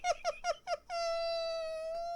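A purple toy keyboard set to cat mode plays four quick electronic meows in a row, then holds one long sustained synthetic meow tone, thin and bright, heard alone without talk.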